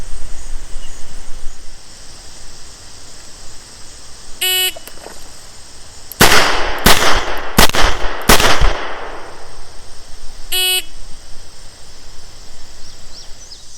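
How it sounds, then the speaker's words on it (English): A Smith & Wesson Model 19 revolver fires four loud, sharp shots in quick, even succession during a timed handgun qualification course, with a short electronic timer beep before the string and another a couple of seconds after. "On the signal to fire, I have 6 seconds to draw and fire 4 rounds into the body of the target"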